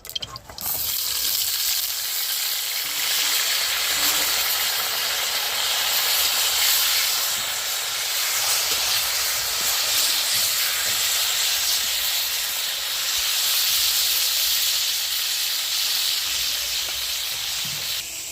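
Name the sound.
pointed gourd (potol) frying in oil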